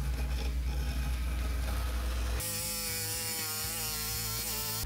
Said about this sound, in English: Now using the jigsaw on these